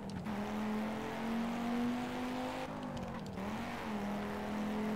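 A race car's engine in the Project Cars video game, driven with manual clutch shifting, holds a steady loud drone, dips briefly as the throttle lifts and a gear change happens, then resumes its note.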